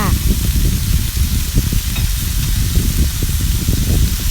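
Holy basil leaves stir-fry with minced pork in a hot pan, making a loud, close, continuous sizzle with rhythmic scraping and tossing of a spatula against the pan.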